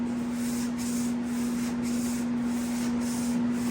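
A power sander runs steadily against a 1985 Jeep CJ7 body panel, a continuous loud whirring hum with rough abrasive hiss, pulsing slightly as it moves up and down the panel.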